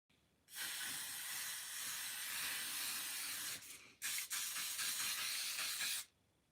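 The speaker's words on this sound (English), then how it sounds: "I do not like the spray. It feels really scary." A spray nozzle hisses close up in two bursts, the first about three seconds long and the second about two, with a brief gap and a sputter between them and no talking.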